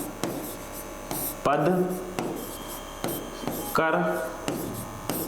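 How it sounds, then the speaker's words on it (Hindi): Pen strokes scratch across paper in short bursts with pauses between them, close and fairly quiet under a man's intermittent speech. "देखिए मैं साथ में लिख रहा हूं"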